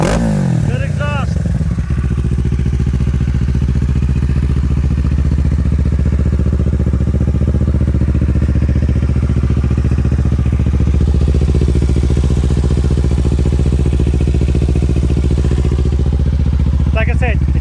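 A 2023 Kawasaki Ninja 650 with its stock exhaust runs steadily, a loud close engine drone holding a constant pitch, with a brief clattering start and a short rise near the end.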